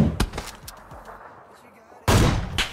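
Gunfire in the PUBG video game: a few sharp shot bursts near the start, then a loud, dense blast of firing after a short lull, close and punchy.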